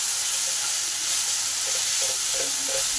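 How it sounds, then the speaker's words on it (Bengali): Jute leaves stirred into hot fried onion, garlic and chili, making a loud, steady, dense sizzle throughout with faint stirring sounds near the end. "এবার শাকটাকে এই পেঁয়াজ রসুন লঙ্কা ভাজার সাথে ভালো করে মিশিয়ে নেব"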